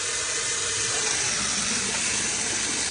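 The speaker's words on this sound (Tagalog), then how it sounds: "Yung liver natin, guys, hugasan natin siya. I-drain natin siya." Chicken liver rinsed under a running kitchen tap: a steady, close hiss of flowing water that lasts throughout with no pauses.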